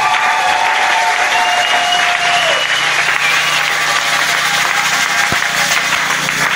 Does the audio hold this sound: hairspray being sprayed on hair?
no